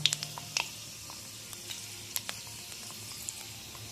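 Panch phoron and two bay leaves crackle in 50 grams of hot oil, a faint low sizzle dotted with quick sharp pops and spits, quiet and close with no voices.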